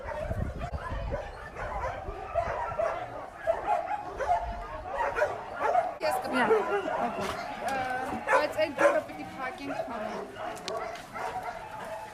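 Many rescued dogs at an animal rescue shelter in Armenia bark, yip and whimper nearby in overlapping bursts, while people talk among the constant canine clamor.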